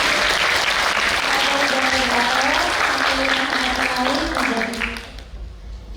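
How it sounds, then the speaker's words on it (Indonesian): Lively applause from an audience at an academic seminar on Korean studies in Indonesia, sustained dense clapping under a speaking voice, tapering off in the last second. "Mari kita berikan tepuk tangan yang meriah"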